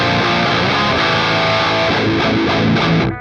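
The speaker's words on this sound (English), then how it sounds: "So now if we switch on the SLAMURAI overdrive," Electric guitar played through a SLAMURAI overdrive pedal into a clean amp, a dense, saturated high-gain tone with sustained chords and palm-muted chugs, loud and continuous before cutting off abruptly at the end.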